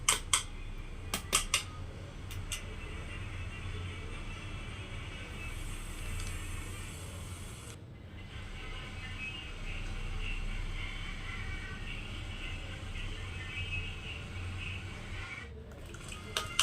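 Egg is being mixed with oil, green chili and onion in a pan. A few sharp utensil taps come first, then faint, continuous scraping and stirring against the pan with a low background hum.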